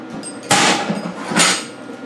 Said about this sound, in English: I'm just going to put some fair tack welds on it right now